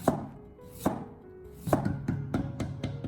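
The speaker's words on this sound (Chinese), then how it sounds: "先用刀把它改刀切成薄片" A kitchen knife slices peeled white radish into thin pieces on a cutting board, with about six crisp chops in uneven rhythm, close up and fairly quiet.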